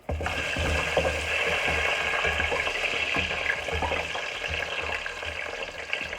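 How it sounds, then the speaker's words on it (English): Garlic cloves sizzling in hot oil in a pan, a dense steady crackling hiss that fills the whole stretch, close and even in loudness, with no talk. "And it's making a nice sizzle, so I know it's ready for the rest of them."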